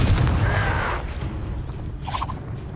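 A Confringo blasting spell goes off in Hogwarts Legacy with a loud, rumbling boom that decays over a couple of seconds, followed by a brief crackle of debris.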